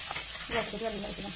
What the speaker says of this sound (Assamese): এতিয়া মই আকৌ অকমান ঘিউ লৈ তাতে ইলাচিখিনি ভাজি লম